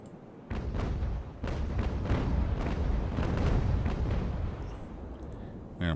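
Cannon fire at a sailing ship in the naval game Ultimate Admiral: Age of Sail, a rolling series of overlapping deep booms forming a heavy sustained rumble that fades toward the end.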